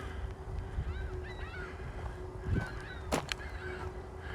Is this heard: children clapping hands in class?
no